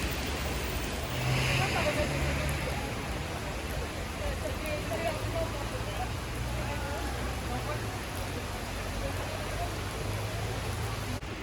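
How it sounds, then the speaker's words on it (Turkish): Heavy rain pouring on a Paris street near the Panthéon, a dense, even hiss that stays steady throughout, with no talk in the foreground. "yağmur çok hızlanıyor"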